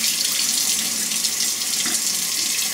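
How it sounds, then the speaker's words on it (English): Running tap water rinses salted onions in a kitchen sink, a steady, close hiss of flowing and splashing water with no talk. "Now I'm going to take and rinse these onions off a little bit, pour the salt water off of them."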